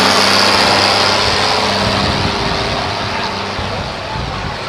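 A pulling tractor's engine runs loud and steady at a truck and tractor pull, a broad continuous roar that eases slightly in level toward the end, with no talk over it.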